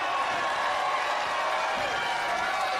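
A wrestling arena crowd roars steadily as a wrestler climbs back into the ring, a dense, constant wash of cheering with no breaks or pauses.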